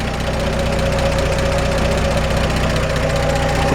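A 1947 Chevrolet 3100 with a solid lifter 216 engine idling, loud and close with a steady even chug and a light rhythmic ticking from the valvetrain throughout.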